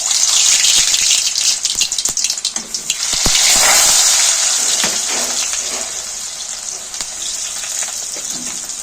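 Cut potatoes dropped into hot mustard oil with cumin seeds, set for a prawn and potato curry, burst into a loud, rushing sizzle that settles into steady frying with scattered crackles.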